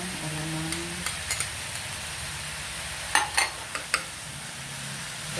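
Pinakbet sizzles steadily in a pan as alamang shrimp paste is added, a continuous frying hiss broken by a handful of light clicks and scrapes of stirring against the pot.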